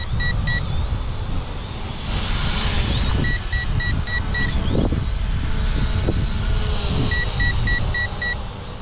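An Eachine E520S GPS drone flies outdoors in strong wind, its rotors giving a continuous high whine over heavy wind rumble, with repeated short electronic beeps from the controller.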